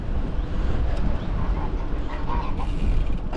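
Ducks gather on a path beside Windscar Reservoir, with a few honking quacks breaking through steady wind noise buffeting the microphone.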